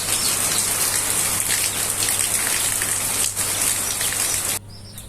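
Heavy rain pours down steadily as a dense, loud hiss over a courtyard at a small chicken farm, with faint birdsong mixed in, until it cuts off abruptly near the end.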